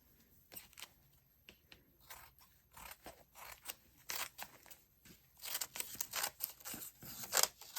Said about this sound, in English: Get my heavy duty scissors for this one.